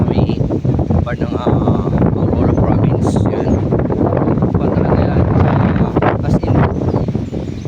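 Loud wind buffets the microphone in a constant roaring rumble, with a voice speaking underneath the gusts.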